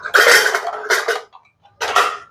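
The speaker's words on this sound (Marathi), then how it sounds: "आता आपण फोडणीसाठी छोटी कढाई ठेवू." A small metal kadai set down on the stove for tempering gives three short, loud bursts of metallic clatter and clanking close by, with brief quiet gaps between them.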